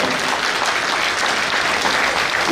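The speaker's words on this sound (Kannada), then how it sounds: "ಚಪ್ಪಾಳೆ ಮುಖಾಂತರ ಸಾಗಿಸ್ಬೇಕು" An audience at a Shree Medar Ketayya Jyothi procession gathering in Bagalkot claps in loud, sustained applause, a dense wash of many hands throughout.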